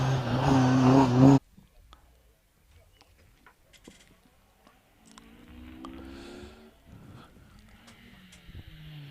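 A Ford Escort Mark II hillclimb car with a 2.6 litre Ford YB engine is heard at a hillclimb course. A loud close engine blare is cut off abruptly, then the car is fainter and farther off, rising and falling as it drives the course.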